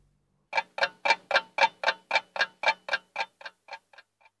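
A big clock ticks in an even, steady rhythm, about fourteen crisp ticks that grow fainter toward the end, heard alone against silence.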